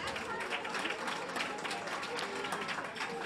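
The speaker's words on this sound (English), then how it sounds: "Another round of applause for yourselves, please." A luncheon crowd at a women's charity fundraiser applauds, with dense, steady clapping from many hands filling the room at even loudness, mixed with faint crowd murmur.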